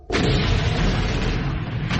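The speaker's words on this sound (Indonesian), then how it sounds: "Ledakan keras terjadi akibat kedua teknik bela diri mereka saling berbenturan" A sudden loud boom from clashing martial arts techniques in a narrated story erupts and rumbles on with a heavy, lingering roar before fading slightly.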